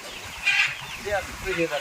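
Chickens and roosters on a farm give soft, intermittent clucks and short calls, partly under people talking nearby.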